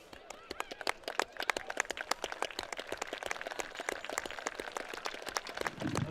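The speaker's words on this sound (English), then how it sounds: "Let's hear a round of applause for him too" Football crowd at a Gordon-Rushville versus Hershey Panthers night game applauds the local volunteer rescue squad, a dense, steady patter of many hands clapping from the stands with scattered distant voices.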